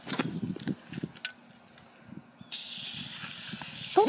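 An aerosol can of spray paint lets out a steady, loud hiss outdoors for nearly two seconds, following a stretch of quiet talk and soft thumps, with a sharp squeak at the very end.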